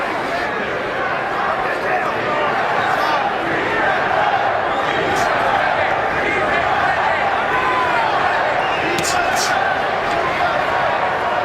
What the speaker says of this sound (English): Here comes that USA chant again